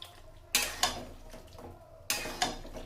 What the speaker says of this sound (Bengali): তো ভালো করে দইটা মিশিয়ে নেবো।